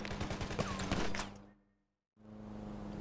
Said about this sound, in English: Shoot the bastards!